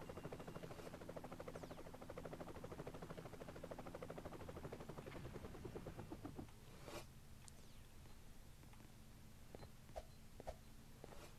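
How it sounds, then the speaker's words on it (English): Helicopter in the Roblox game Super Bomb Survival, a continuous rotor-like chopping buzz for about six seconds that then drops away, leaving faint clicks and small ticks in a quiet background, with no talk. "Helicopter."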